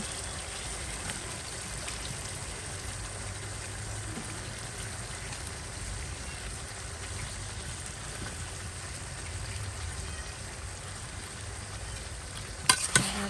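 Potato, tomato and cauliflower stir-frying in a pan, a steady close hiss of frying throughout with faint stirring, ending in a couple of sharp clinks near the end, no voices.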